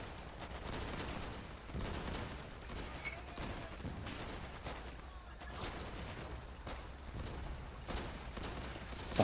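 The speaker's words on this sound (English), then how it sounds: "Oh yeah, there's our artillery." Artillery fire in the shooter game Easy Red 2, heavy booms and volleys rumbling continuously through a dense battlefield mix of gunfire, loud and sustained with no clear gaps.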